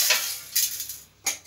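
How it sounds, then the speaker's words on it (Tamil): Black peppercorns and fenugreek seeds dry-roasting in a pan with no oil, giving soft scraping, rattling stir sounds in three short bursts over a faint hiss, close by with no voices. "இப்போது பாத்திரத்தில் எண்ணெய் விடாமல் மிளகு, வெந்தயம் இது வந்து கொஞ்சம் பொன்னிறமாக வறுத்து எடுத்துக்கலாம்."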